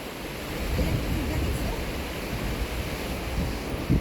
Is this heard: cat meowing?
no